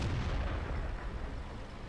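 A Black Prince heavy tank's cannon fires in World of Tanks, one heavy booming shot followed by a fading rumble.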